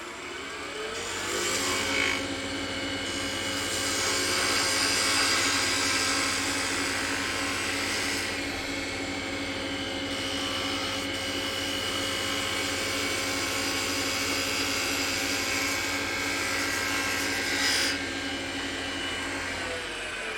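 Wood lathe spinning a wooden snowman box while a spindle gouge cuts it, giving a steady loud motor hum and rushing whir that runs unbroken for the whole stretch, with no voices.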